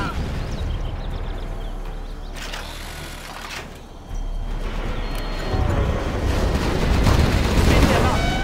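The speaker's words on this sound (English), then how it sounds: "Gatling cannon is ready." Gatling cannon in the C&C Generals video game firing in a dense, rapid mechanical rattle, growing louder and heavier toward the end, with game voice lines audible underneath.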